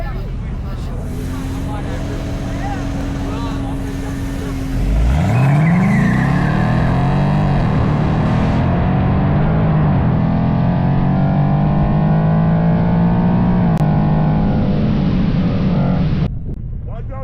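Street racing cars, including a new 2024 Mustang up against a BMW, Charger, Camaro, Chrysler and Nissan Z, rev loudly and accelerate hard nearby, engine pitch climbing through gears, with crowd voices mixed in.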